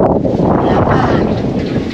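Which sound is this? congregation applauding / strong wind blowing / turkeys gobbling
strong wind blowing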